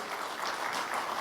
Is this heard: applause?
yes